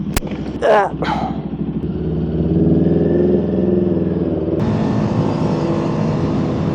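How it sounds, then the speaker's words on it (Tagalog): A motorcycle engine drones close by, rising in pitch as it accelerates, with wind rush and a brief clatter near the start. "Ang ganda ng motor niya."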